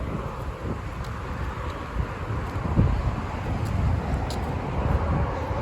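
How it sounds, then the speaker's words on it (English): Wind gusting on an outdoor walking trail on a sunny October day, a steady broadband rush with light buffeting on the microphone and faint distant traffic behind it, no one speaking. "little tiny bit windy."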